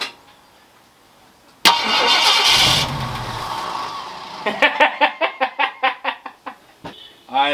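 A Ford Galaxie engine cranks and catches with a loud burst, roars briefly, then settles into a rough, pulsing run with rhythmic surges before revving again at the end.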